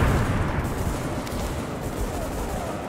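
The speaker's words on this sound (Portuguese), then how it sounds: "Nossa, o tanque explodiu aqui." Loud, sustained rumbling blast and crackling gunfire from a tank explosion in the video game The Division, dense and continuous throughout with no clear gaps.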